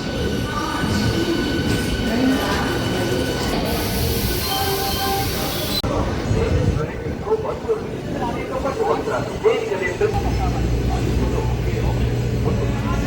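An MMTS local train pulls out of Secunderabad railway station, a steady rumble of rolling wheels and carriage noise with a brief high squeal partway through, while people talk nearby.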